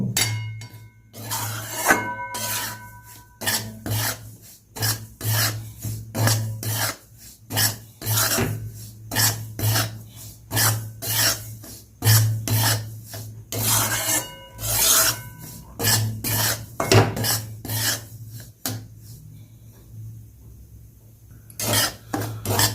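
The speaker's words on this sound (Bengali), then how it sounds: "ভালো করে সুজিটা আমি ভেজে নেব।" Semolina and ghee being stirred in a wok over low heat, with a spatula repeatedly scraping and rasping against the metal in a steady, busy rhythm, close and fairly loud, over a constant low hum.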